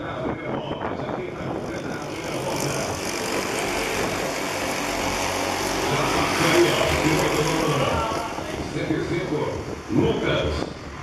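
F-400 junior race cars roar around the track finishing their first lap. Engine noise swells and recedes in a steady broadband drone, with a loud announcer talking over it.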